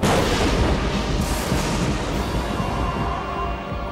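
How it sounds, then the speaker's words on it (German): Explosions burst across the sky in a cartoon, a dense, continuous roar of booming blasts and crackling detonations filling the whole stretch at steady loudness, with no speech. "Der Himmel scheint irgendwie zu explodieren."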